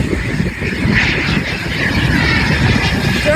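Airplane at Cleveland Hopkins International Airport, a loud, continuous engine roar as it passes fairly close, with no talk.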